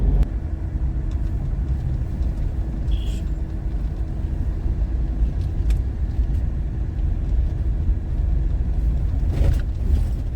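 A car drives on a scenic road through hills on the way to Mount Abu, with a steady, loud engine and road rumble heard from inside the vehicle and a few faint clicks and knocks. No one speaks.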